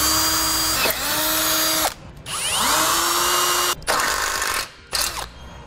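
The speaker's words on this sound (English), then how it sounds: "We'll drill a pilot hole first and then enlarge it to the appropriate size." A power drill bores a pilot hole through the steel bumper beam of a 2016 Jeep Grand Cherokee, whining loudly in several bursts that rise and fall in pitch, with short pauses between.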